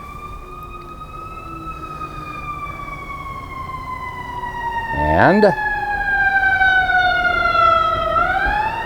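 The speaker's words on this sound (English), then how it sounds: "I think this is probably gonna be an ambulance." Ambulance siren wailing in slow sweeping tones as it approaches and passes through stopped street traffic, steady and fairly loud, with someone speaking briefly near the middle.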